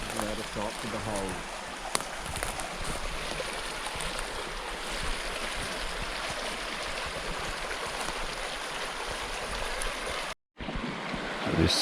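A creek runs over bedrock in a steady, full rush of flowing water close by, continuous for the whole stretch with a brief cut near the end, and voices are mixed in.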